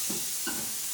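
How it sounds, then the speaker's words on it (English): Water hitting a hot pan gives two short, close sizzling bursts over a steady background hiss. "Sizzle straight away."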